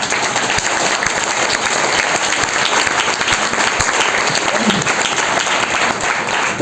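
A crowd keeps up continuous applause, a dense and fairly loud roar of many hands with scattered sharper claps standing out throughout.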